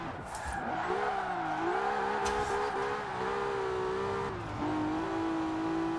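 A Nissan 300ZX drifting in Forza Horizon 4, its engine holding a steady, wavering drone at high revs, with faint tire scrubbing and no voices over it.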